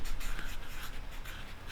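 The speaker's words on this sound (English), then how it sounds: "Let's write down Brazil." A pen or marker writes a word on a surface close up, with quick continuous scratchy strokes and short lifts between letters, and no talk over it.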